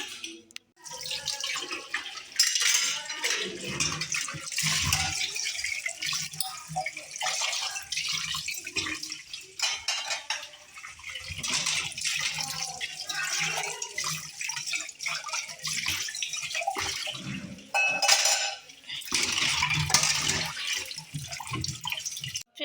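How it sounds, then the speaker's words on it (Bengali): Plates and pots washed by hand under a running kitchen tap, with the water's rush rising and falling as dishes are rinsed, plus occasional clatters over about twenty seconds. "অল্প কয়েকটা থালা বাসন আছে এগুলো একটু ধুইতে হবে"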